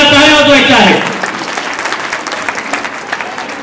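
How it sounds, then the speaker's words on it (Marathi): An audience at a senior citizens' gathering breaks into applause for guests, dense clapping that starts right after a loud voice and then continues steadily, slightly fading. "यांच्यासाठी सगळ्यांनी जोरदार टाळ्या वाजवायच्या आहेत"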